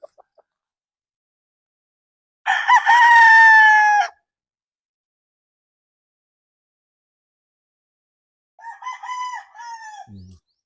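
A nine-month-old Boston Roundhead gamefowl stag crows twice, one long full crow followed after a pause by a shorter, broken one, close and clear against a silent background.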